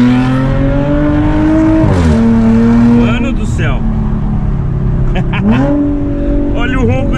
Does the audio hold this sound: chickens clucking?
no